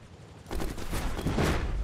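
Helicopter bombing in the video game Rust, heard as a sudden loud burst of rapid, rattling detonations that starts half a second in and keeps rolling in close, heavy waves.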